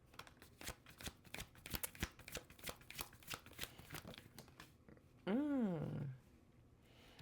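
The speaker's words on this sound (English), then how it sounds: "I'm just going to finish the shuffle, see if anything else comes out." A deck of tarot cards is shuffled close up in a long run of rapid, crisp riffling flutters. A short hum or vocal sound briefly rises near the end.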